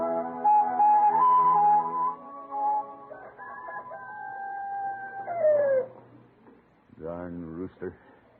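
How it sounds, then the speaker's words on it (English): Farmyard rooster crowing in a drawn-out, wavering call that rises and falls, close and fairly loud, followed by a short second burst of clucking or crowing. "Darn rooster. You've been crowing since daylight."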